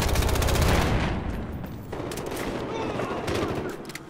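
Gunfire in the video game Battlefield Hardline: a dense burst of rapid automatic shots up front, then scattered further shots and rumbling fire, loud and close, with voices talking over it.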